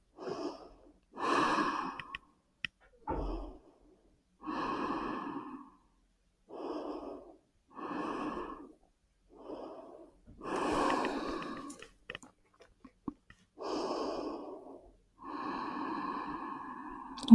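Slow, steady breaths drawn in and let out during a floor yoga stretch, about a dozen soft airy puffs with pauses between them, close and quiet with no talking.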